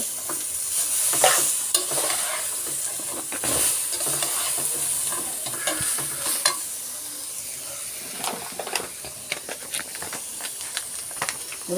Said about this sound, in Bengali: নারকেলটা দিয়ে কতক্ষণ বেজে নেব